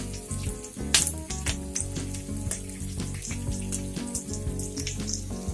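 Green chillies fry in a pan for cauliflower Manchurian, a bright steady sizzle with a sharp spatter burst early on, heard under background music.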